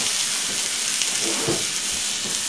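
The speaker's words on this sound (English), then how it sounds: "It's just a sizzle" Steady hissing sizzle of a T-bone steak frying in a hot pan, a close, constant crackle with faint low rumbling underneath.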